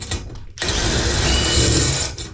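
A socket wrench ratchets steadily as bolts are tightened on a motorhome being converted into a toy hauler, a dense, loud, continuous clicking that starts after a brief pause and runs for about two seconds.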